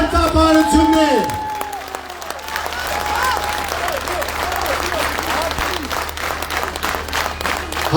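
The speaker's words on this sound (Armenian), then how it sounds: "բարձր ծափահարություններ" Loud, sustained applause from a crowd at a political rally in Gyumri, Armenia, following a speaker's amplified voice at the start, then a dense, continuous clatter of many hands clapping.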